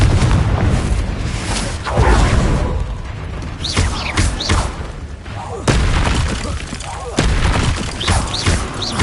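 Bombarda blast spells from Hogwarts Legacy, a magic fantasy video game, go off as a series of loud booming explosions every second or two, dense and close, with a voice shouting spell names over the combat.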